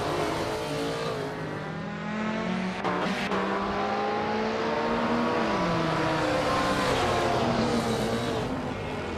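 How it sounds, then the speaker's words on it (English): 2016 Subaru Impreza WRX STI race car in a racing video game, its engine droning loud and continuous with rising and falling pitch as it accelerates and shifts. "steering a 2016 Subaru Impreza WRX STI"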